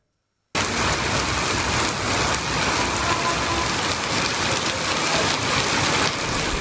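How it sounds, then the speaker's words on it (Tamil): Heavy rain pours down steadily in the Hosur area of Krishnagiri district, a dense, loud, unbroken hiss of water drumming on surfaces that begins abruptly and holds without pause. "சில இடங்களில் கனமழையும் ஒரு சில இடங்களில் சாரல் மழையும் பெய்தது"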